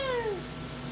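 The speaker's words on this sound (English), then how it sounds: "There's a cat over there." A single short meow from a cat, descending in pitch and fading quickly, heard alone at moderate volume.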